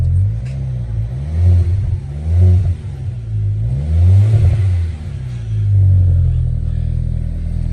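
Deep-toned revving from a car fitted with a custom exhaust, several rising and falling throttle blips in a loud, close rumble.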